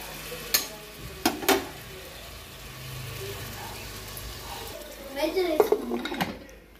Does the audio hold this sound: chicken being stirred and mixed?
yes